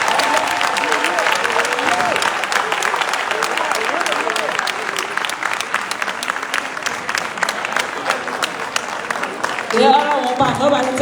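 A conference audience at a small and medium enterprises event breaks into sustained applause, dense steady clapping that carries on for the whole stretch before a voice comes in right at the end.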